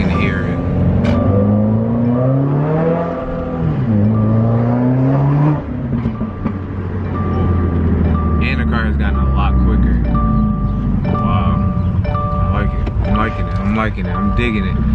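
Subaru WRX (2015 or newer) with a Mishimoto intake on a test drive, its engine droning and rising steadily inside the cabin with audible pitch sweeps as it revs, while someone talks over it.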